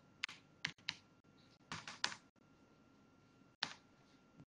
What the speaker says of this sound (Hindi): उसके बाद आपको यहाँ पे टाइप करना है